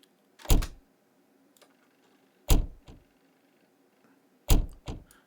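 A door thud sample run through a delay plugin repeats three times at even two-second intervals, each hit trailed by a quicker echoed repeat, in otherwise near silence.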